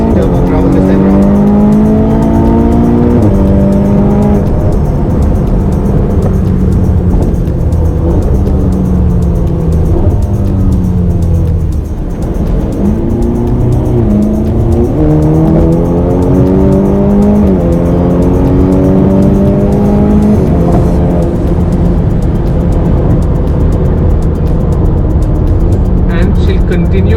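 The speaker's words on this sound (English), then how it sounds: "now listen to the V8 exhaust note" Ferrari Portofino V8 turbo pulling hard under acceleration, its exhaust note rising through repeated gear-by-gear sweeps for nearly half a minute, loud and close, with a person talking over it throughout.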